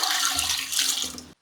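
Water gushes from a jug into a cooking pot for ghee rice: a loud, close, continuous rushing pour that cuts off abruptly after just over a second.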